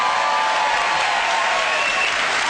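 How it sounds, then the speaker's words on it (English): An audience claps steadily in a dense, even burst of applause at a stage show, continuous and fairly loud throughout with no voices over it. "Give them a round of applause."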